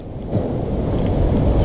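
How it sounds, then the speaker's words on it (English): Steady wind blowing outdoors on a farm, a continuous broad low rumble of gusts buffeting the microphone, loud and unbroken throughout with no speech. "Pretty windy out there."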